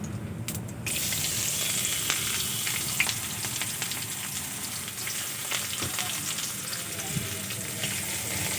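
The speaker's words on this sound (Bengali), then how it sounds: "পেঁয়াজগুলো ভালো করে ভেজে নেব" Chopped onions fry in hot oil for an egg poach curry, a steady close sizzle that jumps louder after the first second and runs on with faint stirring clicks, no talking.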